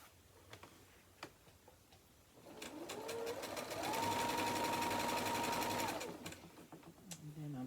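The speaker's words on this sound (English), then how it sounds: "And then I'll just take the next one and I'll just keep sewing them." A sewing machine stitches quilt pieces together in one sustained run of a few seconds, a fast, even motor whir with rapid needle ticking that ramps up and winds down, between quiet handling noises.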